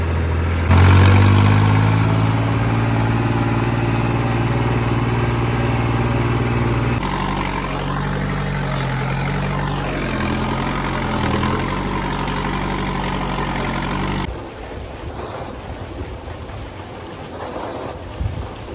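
A tractor's diesel engine idles with a constant deep throbbing rumble for a long stretch, close by, in a field, with its tone shifting slightly and wind noise throughout.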